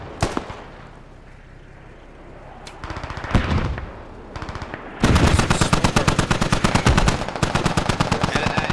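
Rapid bursts of automatic gunfire and heavy thuds from a large-scale 50-versus-50 online war game battle, with mortars landing amid sustained near and far shooting that intensifies into dense, continuous fire in the second half.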